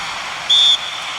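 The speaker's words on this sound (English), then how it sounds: "Whistle's gone, that's foul." A referee's whistle in an eFootball match between Manchester United and Bournemouth sounds as a single steady blast of about a quarter second, standing clearly above a constant hiss of crowd noise.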